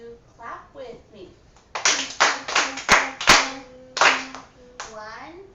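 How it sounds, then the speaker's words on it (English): Hands clap out a rhythm in a children's music lesson, a run of sharp, close claps in a loose beat mixed in with a teacher's and children's voices. "clap with me"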